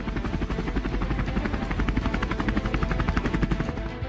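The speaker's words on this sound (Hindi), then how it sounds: "इन स्वदेशी हथियारों का ब्रांड एम्बेसडर होगा LCH, यानी लाइट कॉम्बैट हेलीकॉप्टर।" An Indian indigenous LCH light combat helicopter flies overhead with a loud, continuous rotor chop and a rapid, steady thumping beat throughout.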